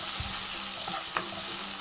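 Onions and tomatoes sizzle in a hot pan for a smelt fish curry, with a couple of soft stirring scrapes over the steady frying hiss.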